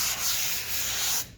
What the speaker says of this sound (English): light sand